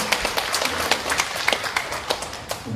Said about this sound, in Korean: 우리 박수를 한번 격려하겠습니다.